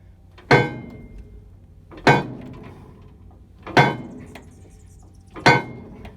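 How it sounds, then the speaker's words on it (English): Hammer striking a part on a 12hp Bulldog oil engine: four sharp, loud metallic whacks spaced about a second and a half apart, each ringing briefly and fading, with no voices. "So we'll just give it a couple whacks and see what happens."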